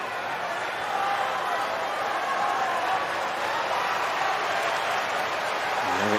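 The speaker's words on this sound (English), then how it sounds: "you can hear the crowd. They're getting on Tsitsipas for any delay now" A tennis crowd at the 2021 US Open stirs and murmurs through a Murray versus Tsitsipas fifth set. The dense, steady wash of many voices stays fairly loud and unbroken throughout.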